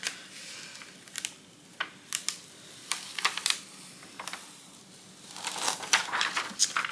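Patterned Cricut craft vinyl is peeled up close: quiet, irregular crinkly crackles and short tearing bursts, with a denser run of crackling near the end.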